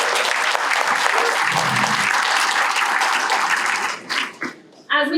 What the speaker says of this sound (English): So let's give you all a round of applause